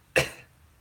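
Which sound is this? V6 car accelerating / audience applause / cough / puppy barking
cough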